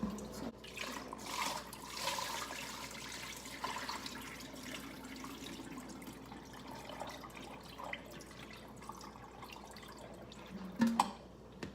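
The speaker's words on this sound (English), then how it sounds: "So I'm gonna go over here to my shrimp and just drain this water out." Water from a pot of boiled shrimp drains into a sink, a steady faint splashing trickle with a few drips and clunks near the end.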